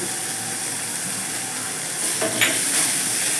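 Bottle gourd peel fries in a pan with a steady hiss, and near the end come light stirring scrapes and a few sharper clinks as poppy seeds go in. No one speaks.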